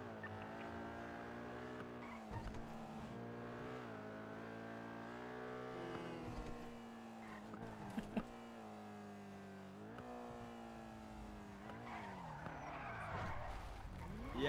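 A racing car in the GTA NoPixel game roars with a steady engine drone that rises and falls through gear changes, and sharp tire skids break in along the way, loud and continuous.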